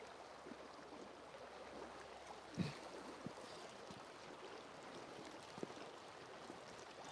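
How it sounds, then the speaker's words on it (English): Water of Loch Ness lapping softly in Scotland, a steady low wash with a few small splashes and knocks, faint and continuous with no talking. "just to listen to the water there"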